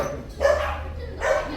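A puppy barks twice at close range, each bark a short loud yip separated by a pause, with a third bark starting at the end.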